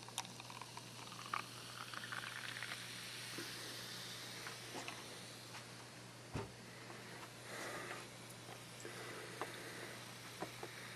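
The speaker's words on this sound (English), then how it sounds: "Plenty of carbonation." A freshly poured blonde ale fizzes and crackles steadily with dense carbonation, a constant soft hiss of tiny popping bubbles close by, with a few small clinks and taps of the glass along the way and no talking.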